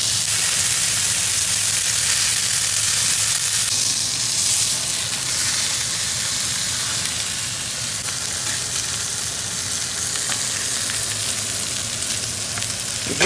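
Brined Cornish game hens browning in a hot pan, giving a steady, close sizzle and frying hiss that runs unbroken throughout with no talking.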